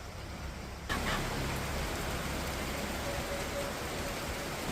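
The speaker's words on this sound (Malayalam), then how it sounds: "ഓ നല്ല മഴ" Heavy rain pours down in a dense, steady wash of noise that thickens after the first second and stays even throughout, with no voices.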